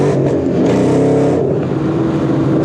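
A Ford Mustang 5.0 V8 pulling hard in first gear with its tires spinning, a loud, steady engine roar with rising harmonic tones, close up and without speech.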